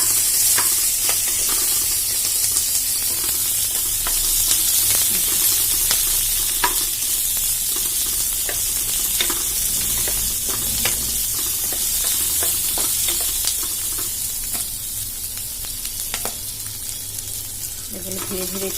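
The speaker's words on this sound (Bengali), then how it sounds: "তেল গরম হয়ে গেছে, তেলের মধ্যে আমি পেঁয়াজ, রসুন আর লঙ্কাগুলো দিয়ে দিলাম ভাজা হতে হতে" Onion, garlic and green chillies frying in hot oil for a Bengali tengra fish dish, giving a steady close sizzle and hiss throughout with scattered crackles and stirring scrapes, easing slightly toward the end.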